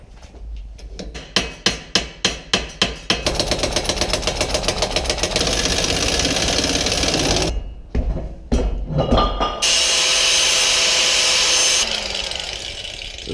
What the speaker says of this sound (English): You may have to pop your axle out using a crowbar.